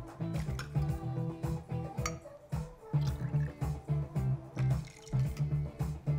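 Club soda topping a tonic drink in a glass, heard as soft liquid trickles and light glassy clinks in an uneven rhythm, fairly quiet and close.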